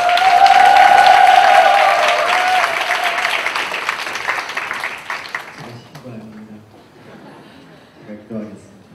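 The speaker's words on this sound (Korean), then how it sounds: "큰 박수로 한번 인사하도록 하겠습니다" Loud, sustained applause from a church congregation welcoming a pastor fills the room, gradually fading away before a voice begins speaking.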